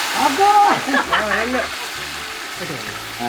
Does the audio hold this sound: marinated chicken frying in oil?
yes